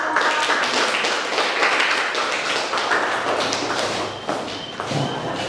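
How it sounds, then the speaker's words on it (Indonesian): A classroom group claps together in a dense, sustained burst of applause that stays loud throughout and eases slightly near the end. "Beri aplaus"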